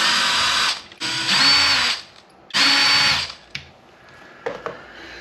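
A power driver whirs in short bursts while backing screws out of a Traxxas Maxx Slash RC truck's bumper, three near, loud runs followed by faint clicks and handling noises.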